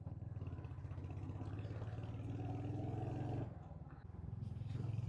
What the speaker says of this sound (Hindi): आवाज आ रही है बाइक की